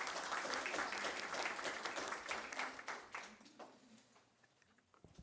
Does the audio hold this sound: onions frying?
no